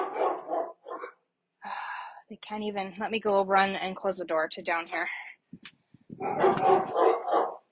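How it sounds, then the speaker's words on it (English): Dogs barking and yipping indoors in short bursts, heard mostly at the start and end while someone talks over them nearby. "My dogs are going nuts."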